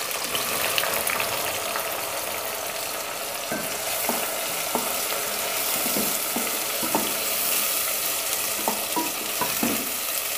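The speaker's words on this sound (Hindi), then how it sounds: "ये 2 कप ऑयल ले लिए, इसको हमने गर्म किया, अब हम इस पर प्याज डाल दें।" Onions frying in about two cups of hot oil for haleem, a loud, dense sizzle running the whole time with repeated scraping stirs and utensil taps near the pan.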